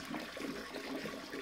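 Sanitizing liquid splashes inside a soft serve ice cream machine during cleaning, a brief, soft watery sloshing heard alone at low level.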